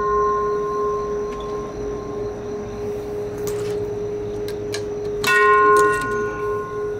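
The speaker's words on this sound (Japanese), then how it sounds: "誰かのために鐘は鳴る。" A temple bell at a Kannon pilgrimage site in Shizuoka, Japan, hums with a long sustained tone, then is struck again about five seconds in, swelling into fresh bright ringing, with small clacks between.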